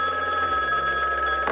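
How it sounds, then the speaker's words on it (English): A telephone rings steadily with a bright, sustained electronic tone, loud and close, with no voices over it. "I think my phone is ringing."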